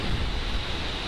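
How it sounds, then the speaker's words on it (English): Strong wind buffets the microphone in a steady, loud, broadband roar that rumbles and gusts through the whole moment, with no speech. "The wind is so terrible here."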